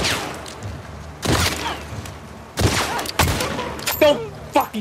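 Bursts of gunfire during a firefight in the video game The Last of Us Part II, several loud sharp volleys separated by short gaps, with clattering impacts and faint shouting between shots.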